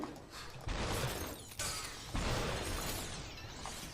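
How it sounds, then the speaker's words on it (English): Glass shatters in the video game SUPERHOT with several loud, crashing bursts in quick succession. Each burst is harsh and full, with no talking over it. "Sometimes the sound will cancel out like it did right there in the breaking glass"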